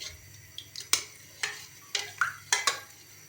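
Soaked tukmaria (basil seeds) being stirred into thick custard sharbat, giving a few light clinks and taps of a spoon against a bowl, scattered and close, with no talking.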